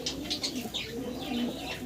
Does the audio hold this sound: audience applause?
no